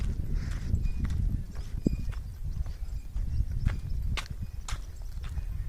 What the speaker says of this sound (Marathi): बघ बैलजोडी कशी खिलारी आहे